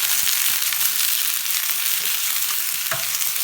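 Bottle gourd (lauki) hitting hot oil in a pan for an Andhra chutney, giving a steady, loud, close sizzle and crackle with a sharper pop near the end, no voices.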